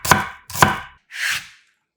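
Onion is cut into thick strips with a knife on a board: two crisp chops followed by a softer slicing stroke, close and clear with nothing else audible.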